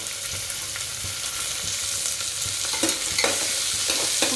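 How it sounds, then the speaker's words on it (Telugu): Onions frying in a pan for vegetable khichdi: a continuous, close sizzle with occasional scraping stirs and small pops toward the end. "ఆ తర్వాత మనం ఆనియన్స్ వేసుకుని ఫ్రై చేసుకోవాలి."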